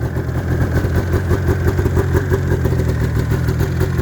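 A 1989 Yamaha Exciter snowmobile engine, freshly revived with cleaned carbs after sitting for years, runs steadily up close with a loud, even, throbbing drone and no talking.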